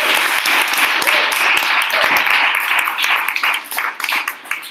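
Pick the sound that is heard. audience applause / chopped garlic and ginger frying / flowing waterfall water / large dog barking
audience applause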